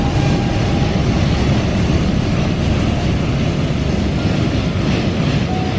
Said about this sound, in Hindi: बहुत अच्छी लगती है ट्रेन। आवाज इंजन की